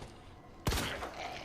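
A single sharp handgun shot fired in Resident Evil 2 against zombies, a loud close crack that rings briefly, then a sustained game-ambience hum afterward.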